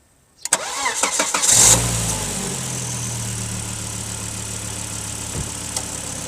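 A turbocharged Volvo engine, just after throttle body cleaning, cranks for about a second and catches. It then settles straight into a steady, smooth idle, close and loud.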